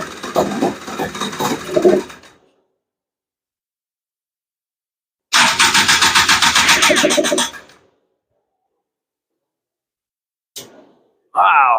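A Honda Odyssey FL350 engine fitted with a Lectron carburetor cranks and catches in loud, rough bursts, with a long burst in the middle, a brief sputter near the end and silence between.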